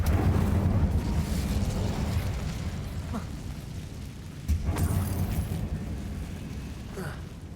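Incendio fire spell cast in the Hogwarts Legacy video game: a loud, continuous roaring rush with low rumble, punctuated by a couple of sharper bursts partway through.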